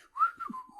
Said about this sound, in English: I'm always whistling